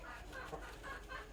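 Hens that lay blue or green eggs cluck softly on a farm, a faint, steady stream of low calls with no voices over them.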